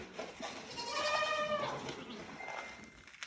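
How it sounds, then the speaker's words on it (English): A goat bleats on a farm in a long, wavering, fairly close call with a clear harmonic quaver, surrounded by light outdoor background noise. "look at the goat"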